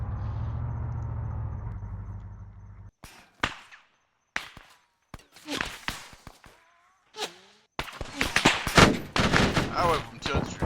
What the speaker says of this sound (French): Ah ouais, vous me tirez dessus.